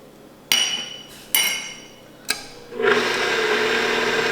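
A KitchenAid stand mixer on speed setting 2 kneads pork bun dough made with canola oil, starting after three sharp knocks and settling into a steady, fairly loud motor whir with a rhythmic churning beneath it.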